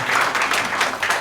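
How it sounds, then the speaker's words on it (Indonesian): An audience at a book launch and parenting talk show claps steadily for just over a second, a dense patter of many hands in an indoor hall. "Aplaus dulu dong untuk"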